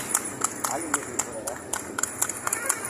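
Horse pulling a cart, with hooves clip-clopping in a quick, even rhythm of sharp close knocks while someone talks over them.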